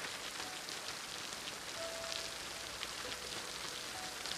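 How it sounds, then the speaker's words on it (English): Rain falls steadily as a soft, even hiss of drops on surfaces, faint and continuous with no talk. "It's raining."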